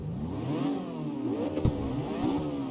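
A car in the CarX Street racing game accelerates, its engine revving through rising and falling gear sweeps at moderate volume, with a brief clunk midway and no talk.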